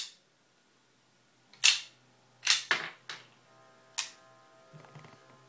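A blank gun used for larp fires four sharp, close cracks at uneven intervals, each with a quick snap and short tail, followed by faint mechanical clicks of the action.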